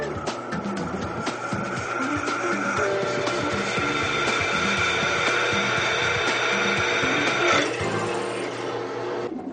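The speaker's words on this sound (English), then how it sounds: "Now, it's time to drill." A power drill grinds steadily into a metal wind turbine flywheel, a loud continuous whine with rattling, close up, briefly surging near the end.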